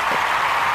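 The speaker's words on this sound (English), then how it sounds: "we're gonna start using that applause effect now" A burst of studio-style applause used as a sound effect in an animated comedy show, many hands clapping at once in a dense, steady wash of noise that stays loud for the whole brief moment.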